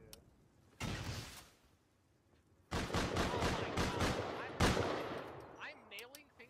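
Gunfire in the console edition of the survival game Rust, a short burst followed by a longer stretch of sustained automatic shooting, fairly distant and muffled against a quiet background.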